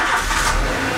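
A car accelerates hard and pulls away nearby, its engine rising into a loud, rushing rev that fills the short moment.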